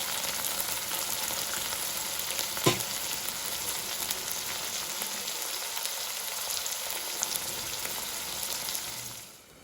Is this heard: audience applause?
no